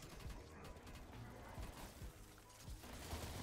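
Rapid bursts of akimbo gunfire crackle through a zombies video game match, dense overlapping shots continuing without pause amid clattering mechanical noise.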